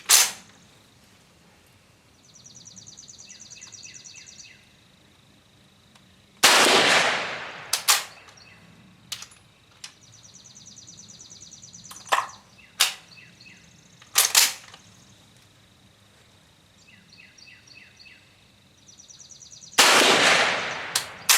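Rifle shots from an 8x50mm Austrian firing 280-grain cast bullets ring out as a few loud, sharp cracks separated by long pauses, with smaller impacts and thin electronic beeping tones between them outdoors.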